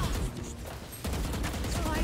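Gunfire from Valorant gameplay: a rapid burst of shots with sharp cracks over game noise, close and loud, with a voice briefly audible.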